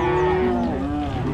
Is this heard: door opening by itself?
no